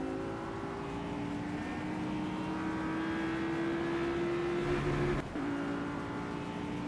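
Race cars in Project Cars sliding sideways through a corner, a sustained engine whine rising in pitch with a brief dip near the end, moderately loud and uninterrupted by talk.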